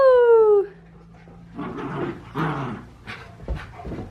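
Dogs playing together with a toy indoors: a loud, falling whine opens the clip, then come rough scuffling, soft growly yips and muffled thumps up close.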